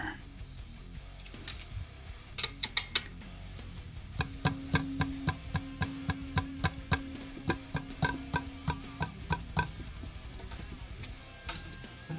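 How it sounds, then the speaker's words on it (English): Sharp, dry clicks tick in a fairly steady rhythm close by from inside a Jackson Virtuoso electric guitar, joined partway through by a soft low hum, with a few scattered knocks at the start. "What is clicking there?"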